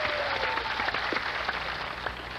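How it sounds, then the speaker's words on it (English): A game-show studio audience claps and cheers, a busy wash of applause at moderate level with scattered whoops, continuing steadily without talk. "Why is the audience cheering?"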